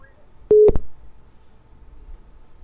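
A telephone busy signal after a call drops: two short tonal beeps close together, loud and near, followed by quiet line noise.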